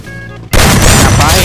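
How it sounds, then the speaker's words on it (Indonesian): A grenade goes off in the Free Fire battle royale game: an abrupt, very loud blast that cuts in after a brief quieter moment, followed by a dense, sustained roar of noise. "Mamam nih granat."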